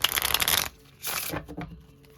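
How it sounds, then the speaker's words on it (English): Tarot cards riffled in a brisk shuffle, a close crisp fluttering burst followed by a brief pause and a second, shorter run of papery card snaps. "Let me do one more shuffle here."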